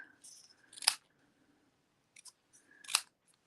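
Scissors snip through a thin strip of paper in two crisp, close cuts about two seconds apart, with faint rustling of paper between them in a quiet craft setting.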